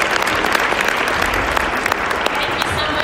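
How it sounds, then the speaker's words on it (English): Steady, dense applause from a convention audience, loud and continuous throughout with no talk over it, filling a large hall at an IPM convention plenary session. "One more massive round of applause for Chantal."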